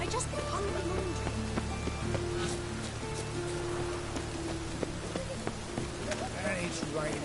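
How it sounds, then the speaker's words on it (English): Steady rain falls in a Witcher 3 game scene, a continuous broadband hiss with scattered drop ticks, heard under background music and speech. "And it's raining again."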